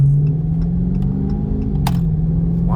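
A Dodge Charger R/T car engine hums and revs up and down in a short, steady burst, close by, with no talking.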